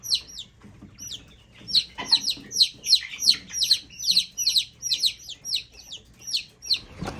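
Chickens in a coop give repeated bright clucks and chirps in a quick rhythmic series, fairly close and clear over a quiet background; no one speaks.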